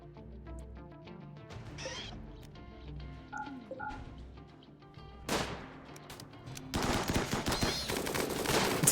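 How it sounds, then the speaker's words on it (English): Crafted masterwork minigun firing in the RimWorld video game, bursts of rapid synthetic gunfire amid other game sounds, growing into a dense, loud barrage toward the end, with no voices. "Minigun. That's the minigun we crafted. That's the masterwork minigun."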